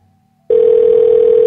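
A steady, loud telephone dial tone switches on abruptly after a brief quiet moment and holds unbroken to the end, heard during a comedy radio show's prank phone call.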